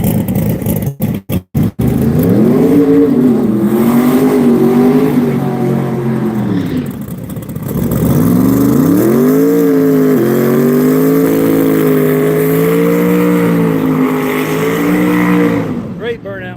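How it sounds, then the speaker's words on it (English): At a drag race, a car performs a long, loud burnout, its engine holding a high roaring drone with rising and falling pitch for over ten seconds. Faint crowd noise sits beneath it. "Great burnout for Alex."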